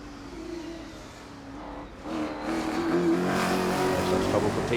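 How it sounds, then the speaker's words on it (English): Massive Carlton V8 race car from the late-80s British Thunder Saloon Championship driving at speed through Molecombe at the 2012 Festival of Speed timed shootout: a loud, steady engine roar that swells and grows harsher as it nears. "very neatly through Molecombe in the massive Carlton V8"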